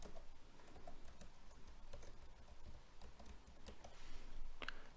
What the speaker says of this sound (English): From there, we will type in their first name and last name.